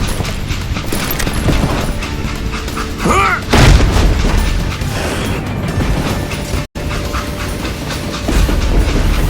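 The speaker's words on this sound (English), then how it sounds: "It was then that Jesse detached the express car from the rest of the damn train" Train car being uncoupled in the Western shooter game Call of Juarez: Gunslinger, a loud run of metallic clanks and ratcheting mechanisms over rolling rail clatter, with a brief screech midway and a momentary dropout.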